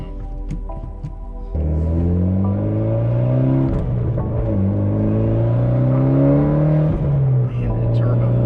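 A Mitsubishi Lancer Evolution X turbo engine accelerates hard on the road. It makes a loud, sustained, rising engine note, climbing through gears with brief dips near the shifts.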